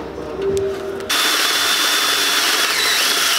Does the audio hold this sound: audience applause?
no